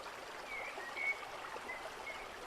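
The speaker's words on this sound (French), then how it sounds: "la puissance de l'eau qui coule" Steady rushing hiss of water flowing down a waterfall, broad and continuous at moderate distance, with a few faint high chirps of birds over it and no talk.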